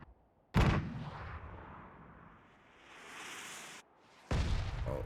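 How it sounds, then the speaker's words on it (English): Mortar fire in an esports video game match, two heavy booming blasts a few seconds apart, separated by a lower rumble and hiss. "Oh, there's a mortar in play."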